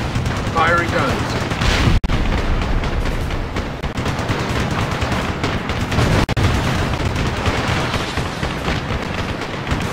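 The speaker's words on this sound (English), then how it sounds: "Firing guns." Aircraft guns in the video game Ace Combat Assault Horizon fire in rapid, loud bursts over a constant roar of engines and explosions, with voices speaking over the action.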